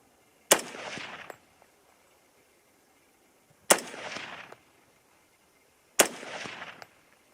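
Three loud rifle shots fired at a target 100 yards out during a shooting-tripod and rifle-saddle field test, each a sharp crack with a brief rolling echo, spaced a few seconds apart in an otherwise quiet outdoor setting.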